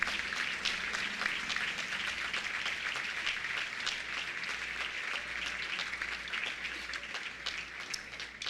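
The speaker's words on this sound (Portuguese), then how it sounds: "Você pode aplaudir ao Senhor Jesus?" A church congregation claps steadily in sustained applause, a dense continuous patter of many hands, moderately distant.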